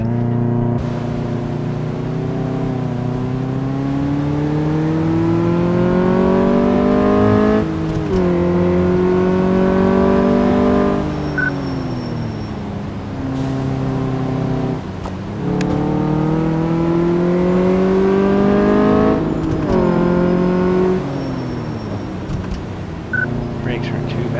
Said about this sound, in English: let's go for a test drive